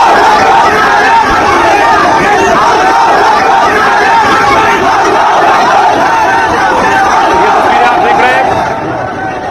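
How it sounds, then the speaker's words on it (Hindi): A large crowd shouts and yells in a continuous, loud mass of voices, with people reported to be dragging a man's body through the streets in Bangladesh. The roar holds steady throughout and fades slightly at the end. "जल्लादों की भीड़ दीपू को खींच रही है"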